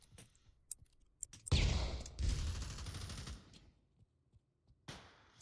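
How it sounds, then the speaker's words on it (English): Flashbang grenade and gunfire in a VR shooter esports match, a sudden loud burst followed by a second sustained crackling blast, surrounded by sparse clicks and taps before and after. "Here comes the flashbang."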